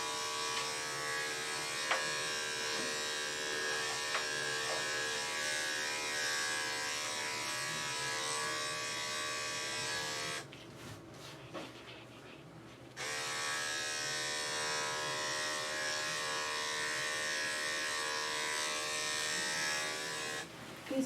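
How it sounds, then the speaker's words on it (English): Electric clippers fitted with a 4 guard buzz steadily while grooming a Maltese dog's feet and back legs, a close continuous whirr that dips briefly in the middle before resuming. "I'm going to do a 4 guard straight down the feet here."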